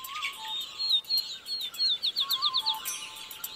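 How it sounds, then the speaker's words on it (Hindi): Birds chirp and tweet at 5 a.m. in a village in Banaskantha district, Gujarat, western India, giving bright, rapid calls and trills, some repeated in quick runs, against a quiet background. "और यहाँ सिर्फ पक्षी ही नहीं चहचहा रहे हैं।"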